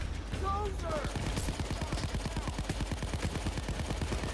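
A rapid burst of automatic gunfire from the game Payday 2 rattles steadily for several seconds, evenly spaced shots over game ambience, with brief voice sounds early on.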